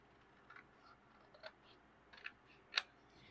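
Scissors cut along the fold of folded paper for a craft pumpkin, a few quiet, close, separate snips spaced irregularly, the last one the sharpest.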